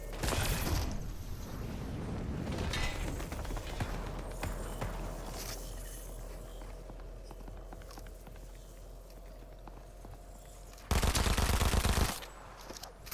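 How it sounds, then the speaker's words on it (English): Dual micro SMGs fire in Fortnite in short rapid bursts, followed by a long run of quieter game noise and footsteps before a louder burst near the end. "Yeah, I love these dual micro SMGs."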